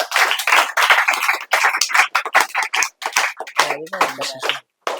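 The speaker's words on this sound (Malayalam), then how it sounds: "നല്ലൊരു ക്ലാപ്പ് കൊടുത്തി" Children at a camp clap in quick, sharp bursts that come in uneven clusters, close and fairly loud, and a voice speaks toward the end.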